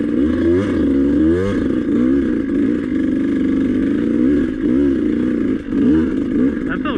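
Beta 200 RR two-stroke dirt bike engine revving and pulling hard while ridden, loud and close with rising and falling throttle sweeps, no talk over it.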